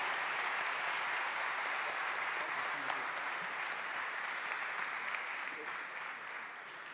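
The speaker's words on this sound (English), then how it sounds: "So big applause to them" Applause from the audience at the Yamaha global press premiere at EICMA 2018, sustained even clapping throughout that fades slightly toward the end, with voices faintly mixed in.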